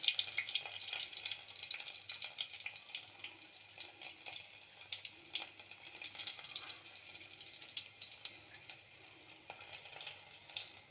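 Chopped onions sauté in hot oil in a pan for a rustic Kerala thoran of jackfruit seeds and dried fish, giving a soft, steady sizzling hiss with faint stirring, fairly quiet and without talk.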